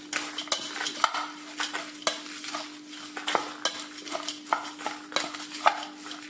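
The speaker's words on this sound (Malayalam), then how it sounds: "എല്ലാം കൂടെ ഒന്ന് മിക്സ് ചെയ്യാം" Raw rice, peanuts, chillies and spices being mixed together produce a rapid series of gritty scrapes and clicks, repeating about twice a second at close range over a faint steady hum.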